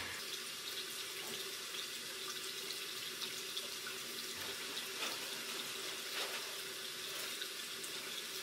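Hot water runs steadily from a bathroom tap into a sink for face washing, a continuous close hiss with occasional splashes and no speech.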